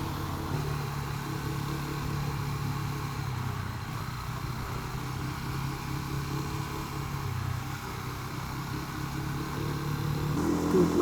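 A motorcycle engine climbs a hill on a mountain road between Austria and Slovenia, holding a steady, mid-pitched drone under wind noise that swells slightly toward the end.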